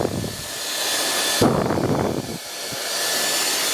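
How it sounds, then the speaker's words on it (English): A handheld hair dryer blows steadily at the roots of a full fringe while it is lifted with a brush, a constant close airy roar with a brief surge in intensity partway through. "I'm using the hairdryer at the root area and encouraging that root area up and away"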